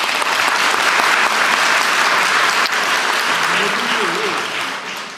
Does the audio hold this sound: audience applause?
yes